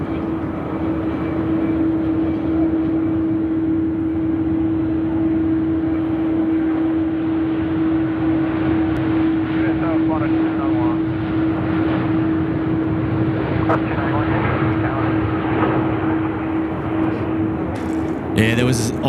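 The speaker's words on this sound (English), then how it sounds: "we've got Qantas 63 service to Joburg now, rolling runway 34 left" Qantas jet airliner taking off on runway 34L at Sydney Airport, a steady, loud, broadband engine roar with a sustained tone held throughout, a brief knock near the end.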